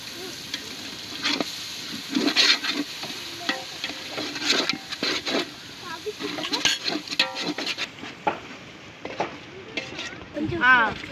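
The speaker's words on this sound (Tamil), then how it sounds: "பிரியாணிக்கு நல்லா கிண்டி விட்டுக்கோங்க" A spoon scrapes and stirs village-style biryani with curd, chili powder and meat in a pot, making repeated wet, sizzling strokes at close range with irregular rhythm.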